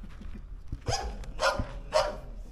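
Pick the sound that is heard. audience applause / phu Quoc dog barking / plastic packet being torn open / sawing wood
phu Quoc dog barking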